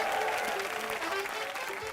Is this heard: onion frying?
no